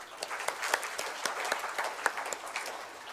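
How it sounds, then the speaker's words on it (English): Audience applause for parents at a university freshmen orientation, a steady, moderately distant patter of many hands clapping with scattered sharper claps throughout. "So a warm round of applause to our parents."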